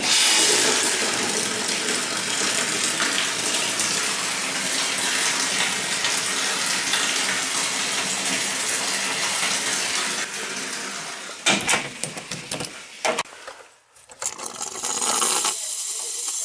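Water draining through 2-inch building plumbing in a basement, a loud continuous rushing gush that breaks into sputtering, uneven surges and brief drops before resuming.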